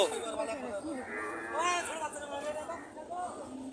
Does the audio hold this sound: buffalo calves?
yes